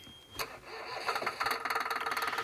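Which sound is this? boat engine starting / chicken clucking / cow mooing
boat engine starting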